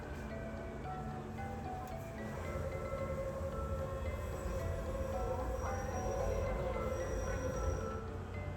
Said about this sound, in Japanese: 列車は終点の大東福徳駅に到着。